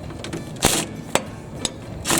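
A socket wrench tightens a nut on a bolt of a Cub Cadet GTX 1054 mower, giving a few evenly spaced ratcheting clicks close by with no talk.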